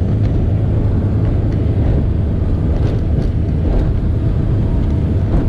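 A 1991 Formula 419 SR-1 classic powerboat speeds across open water, its engine roar and rushing hull wash forming a loud, continuous, close-up din with no talk.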